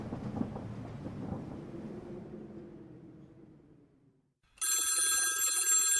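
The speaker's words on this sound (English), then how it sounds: "Someone's on the phone." A telephone rings loudly and steadily with a bright electronic bell tone, starting abruptly after a low rumbling passage fades to near silence.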